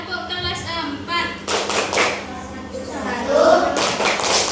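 A grade 4 elementary school class doing a rhythmic clapping chant, several quick bursts of claps mixed with children's voices, close and fairly loud in a classroom.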